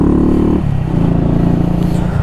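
A Honda Monkey motorcycle revs hard up close, its engine note dropping sharply at a gear change and then climbing again in the next gear, loud and continuous.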